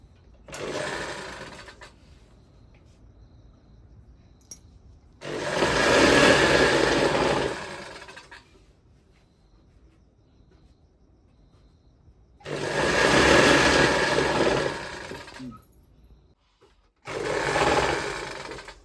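A sewing machine stitches folded sari fabric for a homemade godhadi quilt, running in loud, fast whirring bursts of about two to three seconds, separated by quieter pauses with faint handling sounds and no voices.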